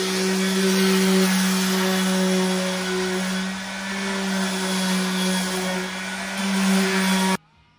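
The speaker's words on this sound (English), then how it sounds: "I'm going to go over it with our dual action sander." A dual action sander works wood while building a quiet box for an RV generator, a loud steady electric whine and hum that holds continuously before cutting off abruptly near the end.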